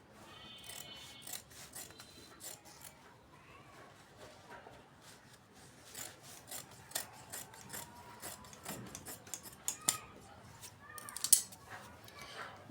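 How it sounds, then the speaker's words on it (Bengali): Scissors cut off the extra corners of fabric while sewing a cloth cover, giving quiet close snips and rustles in irregular bursts that grow busier toward the end, with no talking. "তো আমি বাড়তি কোনাগুলো কেটে নেব"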